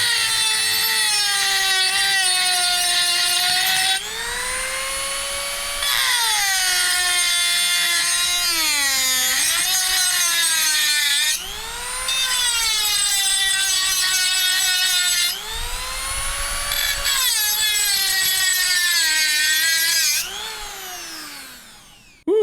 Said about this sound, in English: we have our Dremel set to max. We're gonna hit that button.